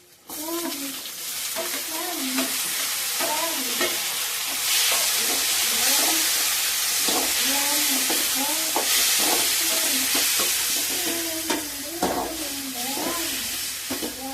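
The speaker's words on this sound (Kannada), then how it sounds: "ಸೊ ಇವಾಗ ಟೊಮೊಟೊ ಹಾಕ್ತಾ ಇದ್ದೀನಿ" Tomatoes fry loudly in a pan, a continuous strong sizzle and hiss with repeated stirring scrapes, while a tonal melody, probably background music or singing, runs over it throughout.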